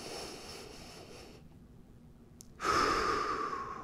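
A single slow, steady breath drawn in during a side-lying knee exercise, faint and close, after a short quiet pause and then rising to a fuller airy rush.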